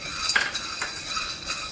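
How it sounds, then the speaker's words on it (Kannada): Black chickpeas dry-roasting in a pan, stirred with a utensil that gives a few light scraping clinks over a soft continuous rustle, close and moderately quiet, no voices. "ಕಪ್ಪು ಕಡಲೆನ ಹಾಕಿ ಹುರಿತಾ ಇದ್ದೀನಿ."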